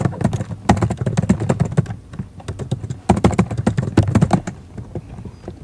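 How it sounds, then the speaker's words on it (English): Close, quick keystrokes on a Mac keyboard as an administrator name and password are entered, arriving in dense bursts with a brief pause around the two-second mark before typing resumes. "you need to type in your administrator's name and password"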